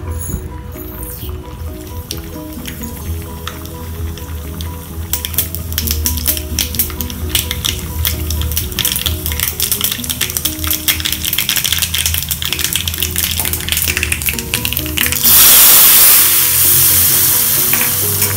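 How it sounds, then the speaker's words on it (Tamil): Mustard seeds crackle and splutter in a spoonful of hot oil for tempering a Kalyana pachadi, a dense, steady sizzle full of sharp popping clicks, close and loud, swelling into a brighter hiss near the end. "கடுகு மட்டும்தான் நம்ம தாளிக்க போகிறோம்."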